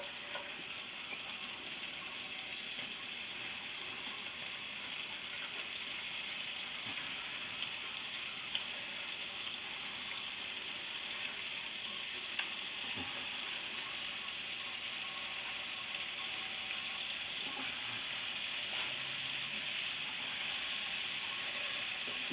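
Prosciutto crisping in about three tablespoons of butter in a pan gives a steady, close sizzle and hiss that runs unbroken the whole time, with no talking.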